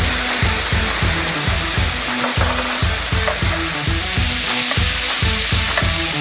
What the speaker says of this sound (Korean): 한쪽 면을 튀기듯이 구워주고 뒤집지 말고